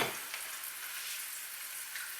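Thin smashed burger patties fry in a hot pan, giving a steady, close, even sizzle and crackle that holds for the whole stretch with no voices.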